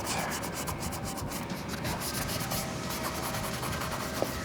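Sandpaper rubbing steadily over peeling paint on a Subaru STI body panel, a continuous dry scraping with rapid back-and-forth strokes, close and alone.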